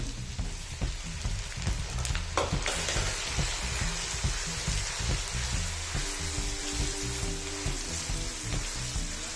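Tomato and onion paste frying in rajma masala, a dense continuous crackling sizzle with a few clinks along the way, steady and close for the whole stretch, no talk.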